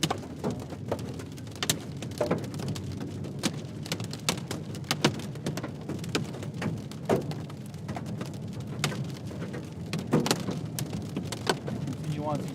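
Golf-ball-sized hail pounds a storm-chasing car in West Texas, giving dense, irregular hard clatter and sharp thuds over a steady rushing background. The impacts keep coming for the whole stretch, with brief talk in the car.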